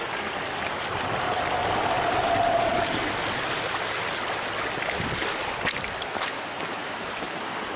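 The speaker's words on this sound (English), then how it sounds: "Look at that little creek." A small creek flows through shallow water in an Alaskan tributary, giving a steady, close wash of trickling and babbling water throughout, with no talk.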